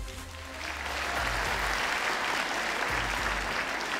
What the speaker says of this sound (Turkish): Bunun için bir kuvvetli alkış.